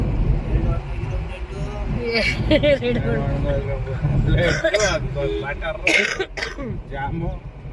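A few throaty coughs and throat-clearing bursts break through nearby talk, with traffic-like rumble in the background.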